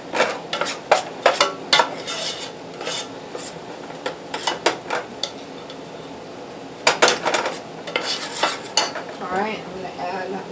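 Stirring flour into melted butter for a white sauce: repeated scraping and clinking of a utensil against a pot in irregular bursts, close and fairly loud, with soft sizzling between.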